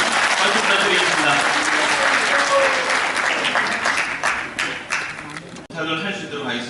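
Sustained applause from an audience at a 2015 practical training session for lifelong educators held by an academy association in Gumi, Korea. Dense, steady clapping fills the room and thins slightly toward the end.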